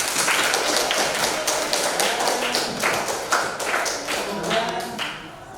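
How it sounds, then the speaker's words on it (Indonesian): A group in a school classroom claps at the end of a science project presentation, with loose, uneven claps and thuds and voices chattering underneath. "Tepuk tangan untuk kita semua."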